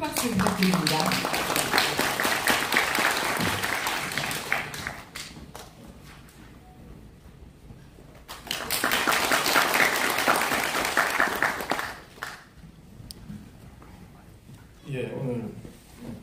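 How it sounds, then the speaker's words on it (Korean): A seminar audience on completing Sejong as Korea's administrative capital claps loudly, with dense applause in two long bursts split by a quieter stretch. The claps are fairly close and full-room, and a voice can be heard at times. "큰 박수 부탁드립니다"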